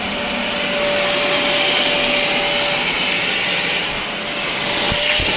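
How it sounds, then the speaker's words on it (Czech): A vacuum cleaner pulls at a clogged toilet drain, a loud, steady roaring hiss with a faint whine that dips briefly near the end and then resumes, with no talk over it. "To musíte opravdu vysavačem."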